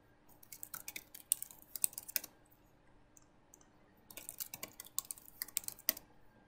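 Keystrokes on a computer keyboard while entering a password to join a Windows Server domain, coming in two quick bursts of clicky taps separated by a pause, fairly close and with no talking.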